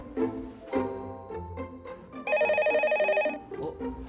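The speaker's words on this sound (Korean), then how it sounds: "환경부 전화인가 보다." Office desk telephone at an environmental safety team, ringing in a steady electronic pattern of repeated tones for about a second, set between quieter office sounds and movement.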